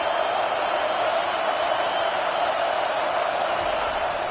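A steady, dense stadium crowd roar from a college football video game featuring UCF, holding at an even level throughout with no distinct cheers or claps standing out.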